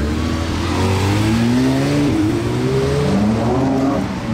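A Ferrari 812 Competizione Aperta in the streets of Monaco, its engine droning loud and steady with rising and falling pitch, close by and continuous with no talk.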